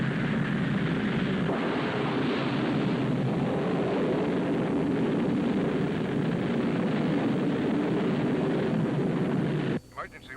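An emergency rocket launches from a 1959 science-fiction TV space station, with a loud, continuous roar that holds steady for nearly ten seconds before cutting off abruptly.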